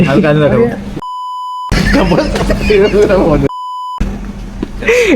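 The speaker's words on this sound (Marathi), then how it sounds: "मला बीप करायला खूप हे लागलं एडिटिंगला" Two steady censor beeps, each about a second long, cut sharply into loud, close conversation, replacing spoken words in an edited recording.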